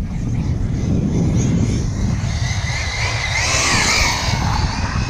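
ARRMA Mojave RC car running at full throttle on new 100C LiPo batteries, a steady loud motor whine with rising pitch over heavy wind rumble on the mic, the whir holding throughout.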